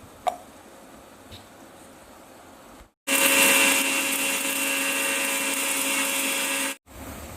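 A kitchen mixer grinder pulverizing garlic and curry leaves for a tomato pickle, starting abruptly with a loud, steady whirring drone that runs for about four seconds, then stops sharply after a brief quieter stretch.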